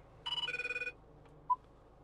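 A mobile phone paired to a car rings once in a quick warbling burst, followed by a short electronic beep; otherwise quiet.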